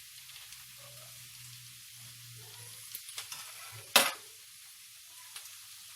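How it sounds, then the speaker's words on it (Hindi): Potatoes fry gently in a pan for German Bratkartoffeln, a quiet steady sizzle with a few soft stirring scrapes and one sharp clatter near the middle. "आलू को भी थोड़ी देर भूनेंगे, ज़्यादा इनको नहीं करना क्योंकि टूट ना जाए।"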